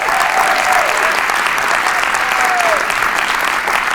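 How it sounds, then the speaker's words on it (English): Audience applause at a college's State of the College Address for a President's Service Award winner: a loud, continuous wash of clapping from a crowd, steady from start to finish, with a faint tone gliding briefly above it. "Let's give him a round of applause."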